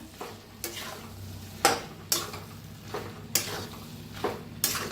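A spoon stirs cauliflower and potato curry with fresh coriander in a pan, giving soft frying sizzle under a string of sharp scrapes and clinks against the metal, roughly every half to one second.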